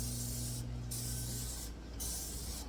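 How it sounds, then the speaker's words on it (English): Dawn Platinum Plus Power Wash dish spray is pumped onto a kitchen stovetop in quick repeated hissing bursts, with rubbing in between, close and clear with no talk. "With the trusty old Dawn Platinum Plus Power Wash Dish Spray."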